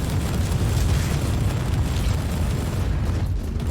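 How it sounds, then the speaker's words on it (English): A sustained wall of explosions and deep rumbling from Warhammer 40,000: Inquisitor - Prophecy stays loud and dense, with a slight thinning of the roar near the end. "Oh, all them explosions I like."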